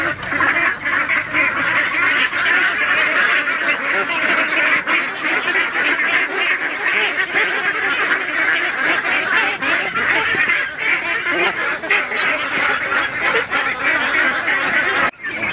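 A crowd of Peking ducks quacking and honking continuously and loudly, a dense overlapping chorus of many birds close by.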